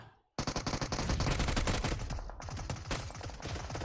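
A UMP submachine gun fires in a competitive esports tournament match: after a brief silence, a sustained rapid burst of loud, close shots rattles on almost continuously, with a short gap near the middle.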